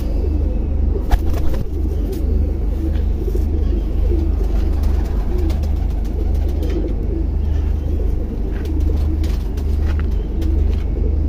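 Low, soft cooing murmurs from several birds continue under a steady background rumble, with occasional fluttery clicks and scuffles nearby.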